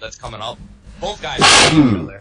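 A single sharp sneeze bursts out close by, set between stretches of men's conversation on a weekly UFC talk show.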